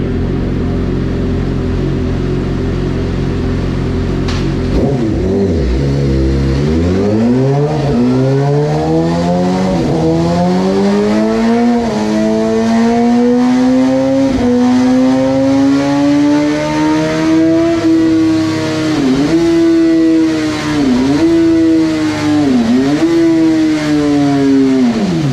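A Suzuki GSX-R 750 motorcycle runs on a dyno, its engine holding a loud, steady roar, then sweeping up through a long rising rev with brief dips as it shifts, sustained and close.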